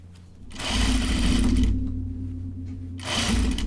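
A sewing machine stitching a gathering seam, running in two close, loud bursts of fast whirring with a brief pause between them.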